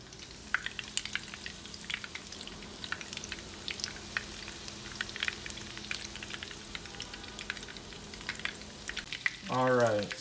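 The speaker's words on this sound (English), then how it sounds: "frying right now" Breaded chicken for chicken parmesan frying in hot oil, a steady crackling sizzle with dense bursts of pops throughout, close and moderately loud, with a brief rising tonal sound near the end.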